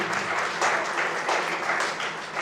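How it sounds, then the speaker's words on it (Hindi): Audience applause welcoming a speaker to the stage at an Indore event, a dense burst of many hands clapping steadily for a couple of seconds. "जोरदार तालियों से स्वागत"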